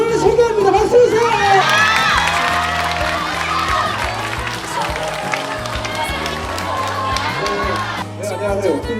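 A studio audience at a Korean broadcast talk show claps and cheers as a webtoon artist is introduced, loud crowd noise with shouts over music, talk starting near the end.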